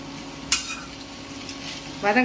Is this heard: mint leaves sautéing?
yes